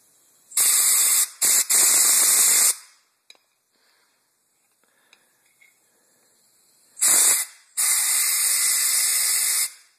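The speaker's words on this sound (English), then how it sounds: "I'm gonna blow in there, and it should come out here pretty good." Two bursts of air are blown through the idle mixture screw hole of a Corvair carburetor, each a loud, breathy hiss lasting a couple of seconds, separated by a quiet gap with faint handling noises.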